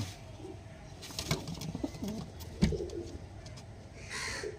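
Andhra pigeons at a sale coo softly in low murmurs over a few seconds, with scattered clicks and rustles nearby.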